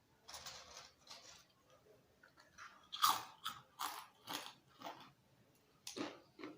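Homemade crispy banana chips are bitten and chewed up close, giving a series of sharp, separate crunches spaced about a second apart, with softer chewing in between.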